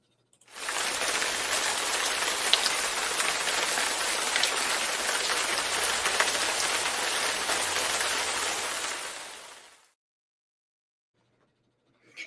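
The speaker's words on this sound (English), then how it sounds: "It's raining." Steady rain falls on a surface for about nine seconds, a dense, even hiss of drops that starts and stops abruptly, with no voices over it.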